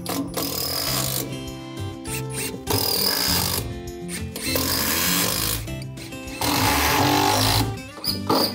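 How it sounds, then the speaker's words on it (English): An impact driver drives a bolt and screws into floor joists while a tokonoma is built from thick Japanese cypress boards, giving loud whirring bursts in several runs with short pauses between them, close up and with no talk. "I secure the last bolt and screw it to the joists"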